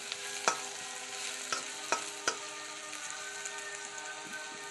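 Sliced onion, curry leaves and slit green chillies fry in oil with a constant, even sizzle. A few crisp scrapes of a spoon stirring in the pan break through at intervals, and no voices are heard.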